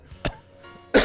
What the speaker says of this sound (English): that's a real cough. That was a real one.